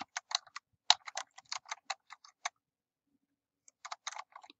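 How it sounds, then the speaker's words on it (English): Typing on a computer keyboard, a quick run of crisp key clicks, a brief pause, then another short burst of taps, close and clear in a quiet room. "I'm going to use Control F and type in the word quantitative"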